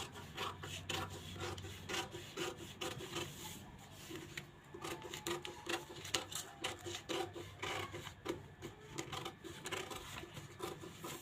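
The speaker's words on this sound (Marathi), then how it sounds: "कटिंग करताना आता हा इकडचा भाग कट करायचा।" Scissors cut through blouse fabric in quick, rhythmic, repeated rasping snips, close and fairly quiet, with no talking.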